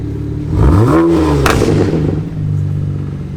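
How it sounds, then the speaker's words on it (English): A straight-piped BMW 335i engine blips in a sharp rev that climbs and falls around the one-second mark, then settles into a loud, steady burbling idle close by. "Give it a little rev and tell me how you like it."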